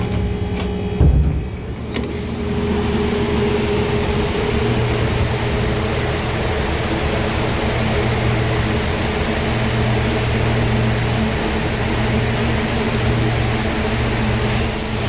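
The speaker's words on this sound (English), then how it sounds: "what it maybe sounds like and kind of feels like inside the dry kiln" Inside a lumber dry kiln drying white ash, a loud, steady mechanical hum and whooshing airflow drone continuously, with a brief clunk near the start before the even roar settles in.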